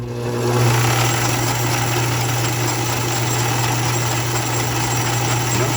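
A restored 1940s metal lathe runs at top speed on its belt and pulleys, a steady loud motor hum with a strong low tone and a constant mechanical whir and rattle, with no talking.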